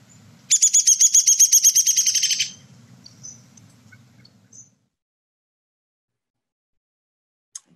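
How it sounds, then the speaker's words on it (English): A downy woodpecker gives its call: a fast, descending whinny of about a dozen sharp, high chirped notes lasting roughly two seconds, clear and close, followed by quiet. "And here's how the downy woodpecker sounds."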